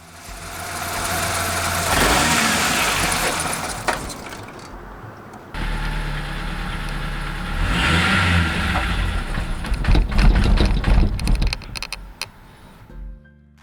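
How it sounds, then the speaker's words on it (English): Ford Ranger engine with a stalling fault, heard up close as it idles roughly and is revved repeatedly in loud surges with dips between, then sputtering down toward the end. "It keeps stalling when the clutch is pressed in and the throttle is revved up."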